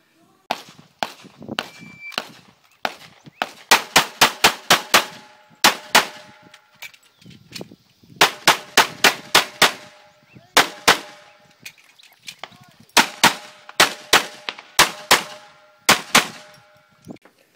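Pistol shots ring out during a USPSA practical shooting stage, sharp loud cracks fired in rapid strings of several shots with short pauses between bursts, some carrying a metallic clang from steel targets.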